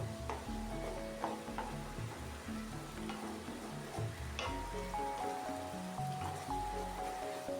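Okra with mustard cooking in a hot wok with a little water added: a quiet, steady simmering sizzle with occasional soft clinks and stirring, continuous and without talking.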